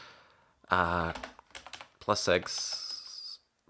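Keys clatter in quick bursts on a computer keyboard while typing terminal commands, with brief vocal sounds mixed in among the tapping.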